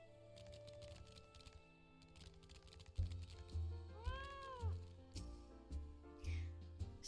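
A fat cat in Final Fantasy XIV meows several times in a row, clear rising and falling cries over game music and soft clicking, with a voice talking faintly in places.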